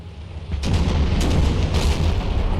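Artillery fire in the Empire 2 mod battle rolls in as deep, overlapping booms, with a low rumble that carries on steadily between the blasts.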